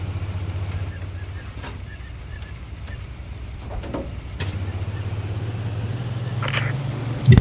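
Engine noise from an armored vehicle in a large multiplayer armored-battle military game, a steady low rumble running through most of the stretch, dipping briefly near the middle before returning, with faint distant bangs over it.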